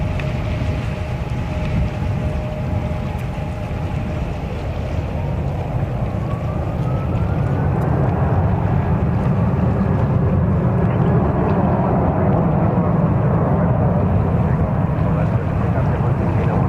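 A Boeing 747-8 jet at JFK airport, a loud, continuous roar of engines with a rising whine, heard steadily throughout with wind rumble at the microphone.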